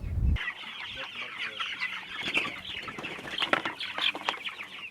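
Pasture-raised chickens on an organic farm in Africa cluck and chatter close by, with overlapping bursts of calls and a brief low thump at the start.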